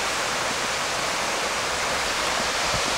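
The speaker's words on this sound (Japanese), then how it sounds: "周りが竹林で滝の音がすごいね。" The Tsukimachi waterfall roars inside a surrounding bamboo forest, producing a steady, dense rush of falling water that holds level and unbroken throughout, with no voices over it.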